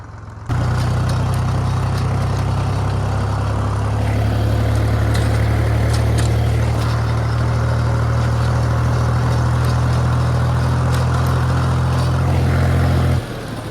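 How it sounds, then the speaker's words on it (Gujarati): A tractor engine on a farm field runs loud and close in a steady, deep droning hum that starts abruptly and cuts off near the end. "આ ટ્રેક્ટર એ એટલું ખતરનાક ચાલે છે ને કે વાત જ ના પૂછે"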